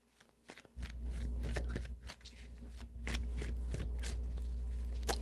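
Tarot cards shuffled by hand: a run of crisp papery riffles and slaps over about five seconds, close and fairly loud, with a steady low hum underneath and no talking.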